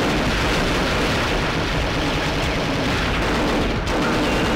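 Super Dragon grenade launcher in Perfect Dark 64, a multiplayer match in the Temple level, booming in loud, dense continuous blasts with a sharp break near the end; no talk.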